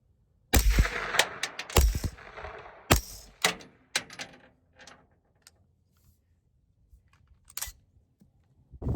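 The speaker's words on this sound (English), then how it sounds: "the subs do seem, after about the 2nd or 3rd shot, to be a lot quieter" Aero Precision EPC-9 AR9 pistol-caliber carbine firing subsonic rounds, a series of sharp, fairly loud cracks with mechanical clatter, bunched early then spaced out and fading to quieter shots, with no talking.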